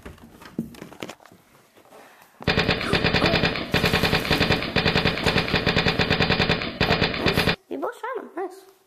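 Sustained rapid automatic gunfire in the video game Left 4 Dead, a dense burst lasting several seconds at close range, with player voices chattering before and after.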